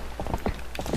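Horse hooves clip-clopping in The Legend of Zelda: Twilight Princess, a quick run of close, crisp hoofbeats in an uneven trotting rhythm, heard alone.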